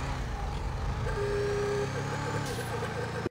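In GTA Online, an Albany Roosevelt idles with a low, steady engine rumble while a bright, sustained horn tone sounds briefly over it, mixed with other tonal game sounds.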